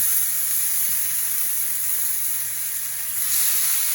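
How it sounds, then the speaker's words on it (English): Steak searing in a smoking-hot cast iron pan with olive oil and salt, a steady close hiss and sizzle holding evenly throughout. "my cast iron pan is starting to smoke, which means it's time to get this meat in"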